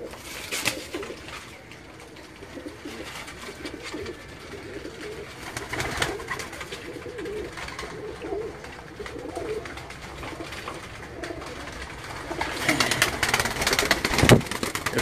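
Pigeons coo on a rooftop in Gujrat, soft repeated throaty calls over steady background noise, with occasional clicks and a sharper sound near the end.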